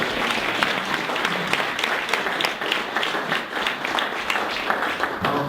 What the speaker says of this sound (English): Let's give Lisa one more round of applause